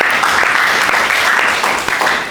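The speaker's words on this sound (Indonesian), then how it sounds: "Tepuk tangan dulu" A classroom of students claps together in a brief, dense burst of applause, fairly loud and close, with no talking over it.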